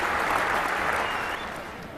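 A cricket crowd at a New Zealand ground applauds a splendid innings, dense steady clapping from many hands that fades slightly toward the end.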